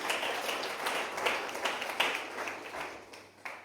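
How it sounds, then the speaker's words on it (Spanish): A church congregation claps together as an offering to the Lord, a dense wash of many hands forming sustained applause that swells and fades slightly across the short stretch. "Una ofrenda de palmas al Señor."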